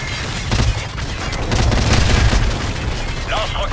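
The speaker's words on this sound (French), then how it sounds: "On nous tire dessus." Gunfire from the video game Call of Duty 4: loud, sustained volleys of shots blend into a dense wall of battle noise that runs throughout.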